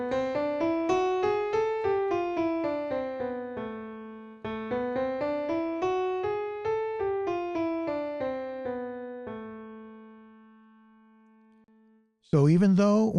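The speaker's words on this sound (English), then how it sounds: "So if you play the melodic minor scale going up and down, it sounds like this." A melodic instrument plays a melodic minor scale rising and then falling, repeated twice, with clean sustained notes; a voice briefly starts at the end.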